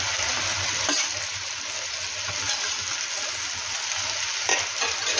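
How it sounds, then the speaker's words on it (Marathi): Noodles stir-fried in a hot pan, a steady close sizzle with occasional scraping stirs, alone without talk. "आता यामध्ये आपण नूडल्स टाकून घेऊया।"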